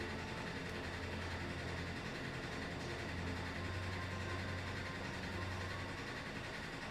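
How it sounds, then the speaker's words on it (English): A home washing machine in its spin cycle gives off a steady, loud low rumble with a constant mechanical drone, continuous and unbroken throughout, much like a distant freight train. "That's my washing machine."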